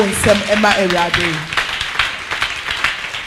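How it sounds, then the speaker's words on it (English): A church congregation claps for the Lord during a sermon, scattered hand claps rising under a preacher's voice that talks over the start. "go ahead and give the Lord a better clap"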